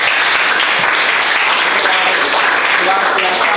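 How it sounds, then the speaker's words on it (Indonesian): A class of students applauds after their group presentations in a chemistry lesson on atomic structure: dense, steady clapping fills the whole stretch at close range, with voices mixed into the crowd noise. "tepuk tangan untuk kalian semua"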